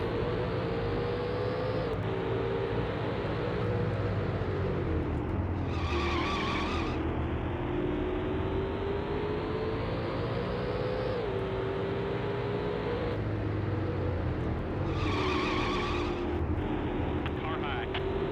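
Race cars in EA Sports NASCAR 2001 roar continuously and up close, engine pitch rising and dropping through the laps, with tire squeal and skidding bursts, under a person talking over the game.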